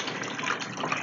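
A liquid brain mixture is poured in a kitchen, giving a steady, loud gushing splash that fills the whole second without pause.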